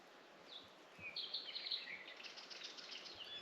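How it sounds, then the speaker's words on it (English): Faint, distant birds chirp and twitter in short high calls against quiet Hawaiian jungle ambience, with a few soft rustles. "And everywhere you have the birds chirping."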